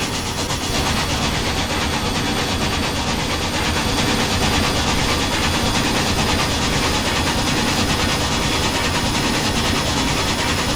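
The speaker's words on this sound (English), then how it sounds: "It's really nice that chuff sound." Simulated steam locomotive chuffing from a Western Pacific 4-6-6-4 in the Trainz 2019 game, a dense, loud, steady rumble with mechanical clatter running unbroken throughout, no voices.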